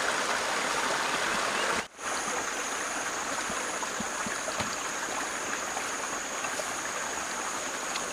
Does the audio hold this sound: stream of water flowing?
yes